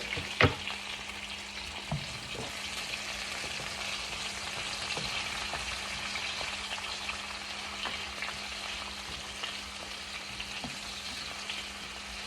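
Onion and garlic frying in a pan, a steady quiet sizzle with a faint hum underneath and a few scattered clinks of a utensil against the pan.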